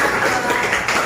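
Classroom applause as students clap their hands together, a loud, close, busy patter of many claps blending into a continuous wash for about a second, with no speech over it.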